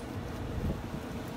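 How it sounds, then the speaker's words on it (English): Strong outdoor gusts of around 30 miles an hour blow behind a warehouse, a low continuous roar of wind buffeting the microphone throughout, with no voices. "It is really windy over here, guys."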